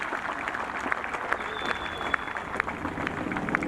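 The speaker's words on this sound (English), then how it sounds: "Generous applause for Holly Clyburn" A golf gallery at the final round of a women's professional tournament in South Africa applauds a player, a moderately loud spread of claps with a few sharp individual hits standing out, heard from some distance.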